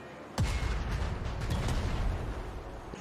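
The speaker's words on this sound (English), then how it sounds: "I guess we can pop him with this artillery." Artillery fire in a World War II video game set at the Siege of Tobruk: one heavy boom strikes near the start, then rumbling blasts and distant shots roll on continuously with no talk.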